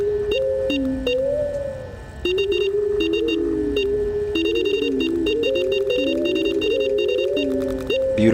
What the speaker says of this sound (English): Guys, I'm using Morse code right now.